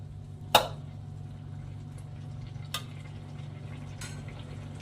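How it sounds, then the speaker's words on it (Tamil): A spoon stirs coconut paste into greens in a pan: a few scattered scraping clinks against the pan, one sharper near the start, over a steady low hum of cooking, with no talk. "தேங்காய் பேஸ்ட்டு சேர்த்து இது ஒரு நல்லா கிண்டி விட்டு"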